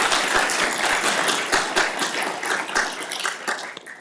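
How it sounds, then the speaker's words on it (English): A convention audience applauds a panel steadily, dense clapping throughout that fades slightly toward the end. "Let's have a round of applause then."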